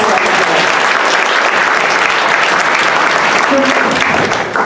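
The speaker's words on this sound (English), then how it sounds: "So that was a big applause." Sustained, loud audience applause fills a gala hall, dense and steady throughout with a faint murmur of voices beneath.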